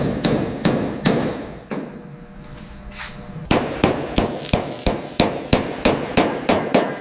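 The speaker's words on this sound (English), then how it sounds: "Listen to the rhythm of the hammer." Steady rhythmic hammer blows ring on bare car body metal while a Buick Skylark panel is reshaped, a pause of softer scraping in the middle, then a quick even series of sharp, close clanging strikes.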